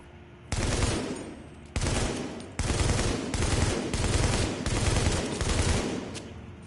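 Sustained automatic gunfire from a firing range in the video game The Division, loud and close, coming in several long bursts separated by brief pauses.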